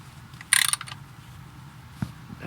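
A ratchet clicks on a transmission pan bolt under a 2010 Ford Fusion as it is snugged by hand, with a quick burst of clicks followed by a single sharp click a moment later.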